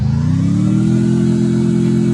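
A jeep engine in the battle royale game Free Fire drones steadily, its pitch rising slightly then holding as the vehicle drives, loud and alone without talk.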